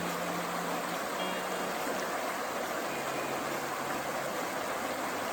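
Broad, constant rushing of Blalock Creek close by at a wading crossing on Arkansas's Eagle Rock Loop, loud and unbroken, with no talking.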